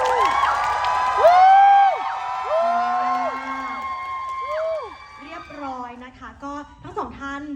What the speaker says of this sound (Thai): ก็ขอเสียงปรบมือให้กับนักแสดงของเราทั้งสองท่านด้วยนะคะ